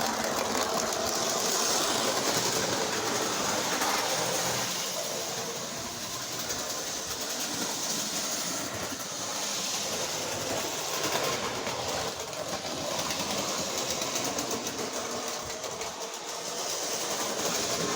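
A model train engine runs steadily around a layout with ballast laid down, giving a continuous rattling rumble with faint clicking that stays fairly even throughout.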